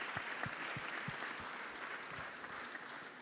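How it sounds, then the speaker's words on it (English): An audience at a summit panel applauds, a dense, even wash of clapping heard from a distance that holds steady throughout. "can I please have a round of applause for my incredible panel?"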